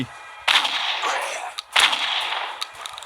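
Gunfire in the horror video game Motherbirb: two loud, sharp shots about a second apart, each trailing into a long noisy decay, followed by a fainter crack, with no talk.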